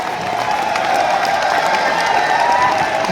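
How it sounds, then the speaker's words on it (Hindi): A large audience claps and cheers in a dense, steady roar of applause that holds loudly throughout the stretch. "जोरदार तालियां रवि जी के लिए"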